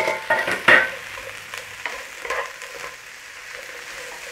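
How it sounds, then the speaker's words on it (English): Garlic, ginger, onions and peppers stir-fried in a hot pan, a soft steady sizzle broken by scraping utensil stirs and clatters, close and fairly quiet. "Nice, steady stir fry. Chuck it all around in there."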